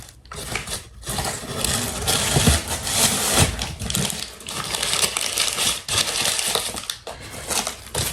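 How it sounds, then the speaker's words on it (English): Loud, continuous crinkling and crushing of Christmas gift packaging handled close to the microphone, a dense stream of crackles with brief pauses throughout, and no talking. "Sorry if these crinkling sounds are quite loud."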